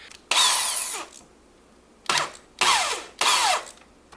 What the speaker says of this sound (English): I'm going to drill these guide holes right here